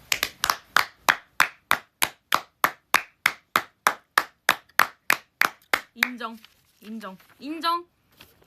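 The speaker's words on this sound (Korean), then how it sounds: "박수 한번 줍시다" About twenty crisp, evenly spaced hand claps from what sounds like a single person, close and loud, followed by a few seconds of someone talking.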